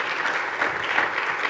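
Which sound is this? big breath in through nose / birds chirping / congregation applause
congregation applause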